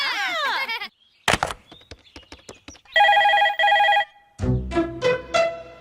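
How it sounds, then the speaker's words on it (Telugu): A telephone rings in a Telugu comedy film scene, with two sustained ringing bursts in the middle, set among scattered knocks, clatter and other sound effects before and after. "రింగ్ అవుతుందిరా"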